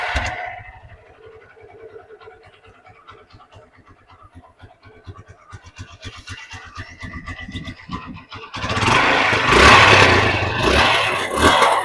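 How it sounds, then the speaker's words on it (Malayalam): A Hero Karizma motorcycle with a reconditioned engine starts and idles with a steady low thumping beat, then revs up into a loud, broad roar near the end. "എൻജിനും ഒന്ന് നമ്മൾ റീകണ്ടീഷൻ ചെയ്ത് ഞാൻ അപ്പോൾ അതിൻ്റെ സ്റ്റാർട്ട് ചെയ്തിട്ടുള്ള സൗണ്ട് ആയിരുന്നു"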